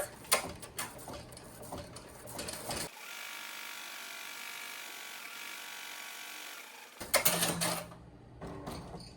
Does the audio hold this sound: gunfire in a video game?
no